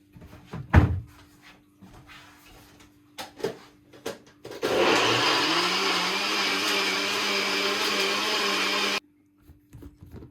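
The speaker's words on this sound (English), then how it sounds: "So we're gonna blend this now" After a few clunks and knocks, a blender whirs loudly and steadily for about four seconds blending a spinach smoothie, its motor pitch shifting as it churns, then stops.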